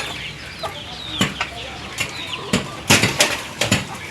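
Chickens cluck in short, scattered bursts around a newly built chicken roost, with a few sharp knocks and rustles between the calls and faint voices in the background.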